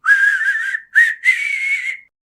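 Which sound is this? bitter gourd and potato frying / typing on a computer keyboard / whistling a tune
whistling a tune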